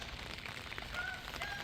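Rain falls on a homestead garden's leafy green patch, with a soft, faint, steady patter and a few higher chirps drifting in.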